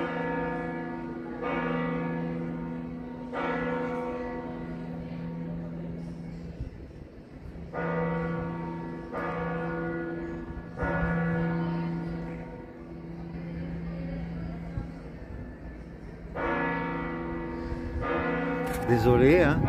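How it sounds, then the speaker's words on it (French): Church bells of the Santiago de Compostela cathedral ring out in repeated, resonant strokes with long sustained hum between them, heard from nearby outdoors over a steady background. "Je laisse sonner la cathédrale de Compostelle derrière moi."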